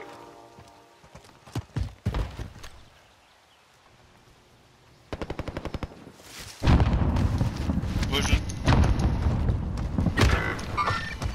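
Gunfire rattles in Call of Duty Warzone: a quick volley of rapid, evenly spaced shots, then a loud, sustained wash of battle noise and impacts. Sparse thumps come first over near silence.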